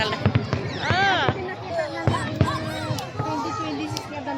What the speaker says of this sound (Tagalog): Fireworks pa.